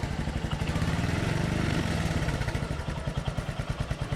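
A Royal Enfield Classic 350 single-cylinder engine gets a light blip of throttle, rising to a denser, busier roar before dropping back to its evenly spaced, thumping idle.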